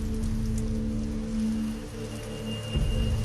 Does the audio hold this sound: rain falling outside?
yes